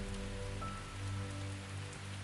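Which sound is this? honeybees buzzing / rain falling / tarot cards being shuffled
rain falling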